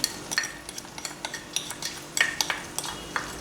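Soaked, washed masoor lentils going into a cooking pot for Lahori murgh cholay, heard as quiet, scattered clinks and light scraping in an irregular rhythm, with no voices.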